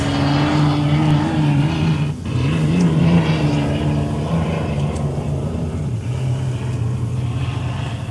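Hydroplane racing boat at the Eppalock Cup being fired up and running through, a loud sustained engine drone with steady low harmonics and a brief dip midway, close and continuous with no talk.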